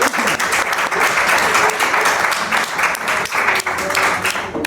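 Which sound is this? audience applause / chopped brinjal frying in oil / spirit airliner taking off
audience applause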